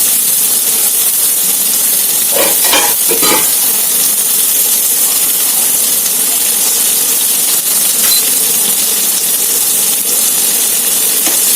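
Onions and a spice mix fry in a hot pan, a continuous loud sizzle and hiss with a few clinking scrapes of stirring near the start.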